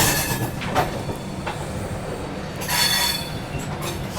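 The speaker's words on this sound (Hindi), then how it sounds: "चलिए निकल गई अपनी ट्रेन जो है" A passenger train pulls out of New Delhi railway station, its wagons rumbling steadily nearby with bursts of high wheel squeal rising and fading over the continuous rolling noise.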